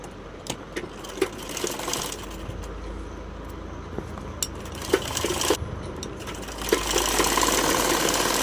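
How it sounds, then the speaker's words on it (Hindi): A sewing machine stitches the fitting seam of a blouse with a steady close motor whir and rapid needle clatter. It pauses briefly and starts again, with a few light clicks between runs. "ऐसे ही हमें दूसरी साइड भी इसको पलट के फिटिंग की सिलाई लगा लेनी है।"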